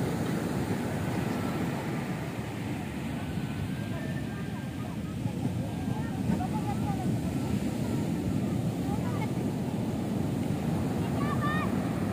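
Ocean surf at Pantai Cemara beach in Cipatujah, Tasikmalaya, a continuous broad roar of waves with wind buffeting the microphone and a few faint higher voices or calls in the background.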